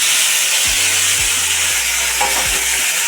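Potatoes frying in hot oil with cumin and asafoetida, a steady loud sizzle with a few low knocks and thuds from stirring in the pan.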